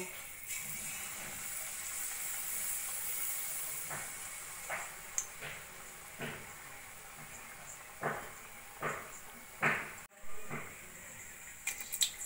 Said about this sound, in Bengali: এবার একে একে আমি মালপোয়াগুলো ভেজে নেব।